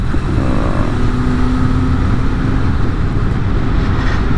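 A Yamaha RD350LC two-stroke motorcycle pulls hard in third gear, its raspy, buzzing engine note loud and close as it holds steady and climbs, with no talking over it.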